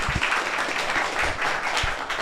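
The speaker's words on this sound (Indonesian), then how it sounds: "Wow, tepuk tangan untuk Alam." A live-show audience claps for a guest, a short, fairly loud burst of mixed clapping and crowd noise lasting a couple of seconds.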